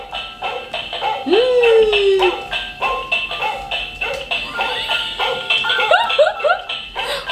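Dogs at home whine and yelp in high, rising whimpers and short excited barks, fairly loud and close, repeating in quick bursts with a little human laughter mixed in.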